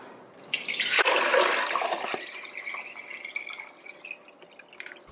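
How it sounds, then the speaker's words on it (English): Water pours steadily into a cooking pot, a gallon going in for a turkey brine, with a broad splashing rush that settles into a thinner trickling stream, close and fairly quiet. "I'll start making my brine with 1 gallon of water, 4 quarts equals 1 gallon. I'm going to pour it here into my pot."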